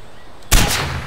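A single loud gunshot in Far Cry 4 cracks out sharply and then trails into a booming, rumbling echo that fades over the next half second.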